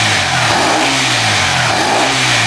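A car engine on a standard ECU revs hard and continuously while parked during an air-fuel ratio module test, a loud sustained mid-pitched roar with rising and falling pitch, no voices.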